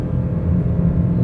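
A 2026 Mazda 3 1.5L High Plus accelerating on a drive in Genting, heard as a steady, full engine rumble with road noise throughout the short stretch and no voices.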